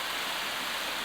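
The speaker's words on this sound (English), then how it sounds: "This is actually the spring that the waterfall's on." A spring-fed mountain stream flowing beside a waterfall on a hiking trail toward Chestnut Bald, heard as a steady, close, broadband rush of water with no talking.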